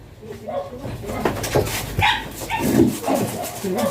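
A Belgian Malinois whimpers and yips in short bursts close by during a stud session, mixed with people talking in the background.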